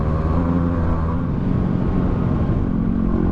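A Yamaha WR250R dirt bike engine drones loud and close on a desert track, with a steady mid-pitched rumble and wind noise behind it.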